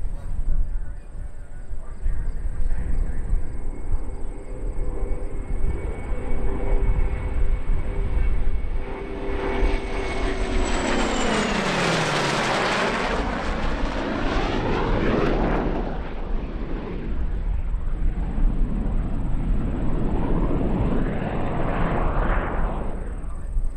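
A restored Vought Corsair warbird sweeps past at an airshow, its piston engine roar swelling steadily, peaking loud overhead with a pitch drop, then fading and briefly rising again as it recedes.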